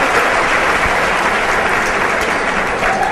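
Audience applause at a speaker's talk, a loud, dense wash of clapping that holds steady throughout.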